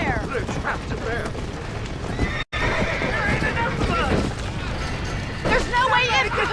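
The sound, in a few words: horses neighing in a burning barn, Red Dead Redemption video game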